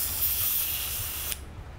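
Airbrush spraying leftover color-shift paint out of its cup while being cleaned, a close, steady hiss that cuts off abruptly near the end.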